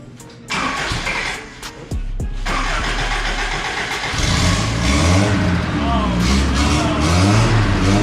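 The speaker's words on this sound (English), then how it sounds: "Little bit of backfire." Truck engine in a garage cranking and catching with a sharp pop of backfire, then settling into a steady loud running rumble with a few thumps, under some talk.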